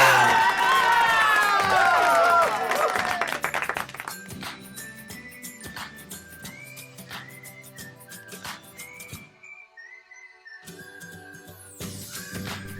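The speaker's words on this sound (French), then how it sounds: "Applaudissez-le bien fort" Crowd cheering for Lightning McQueen in a LEGO Duplo Cars 3 Piston Cup race scene, a loud burst of cheers at the start that fades into lighter music and effects, with a voice briefly heard.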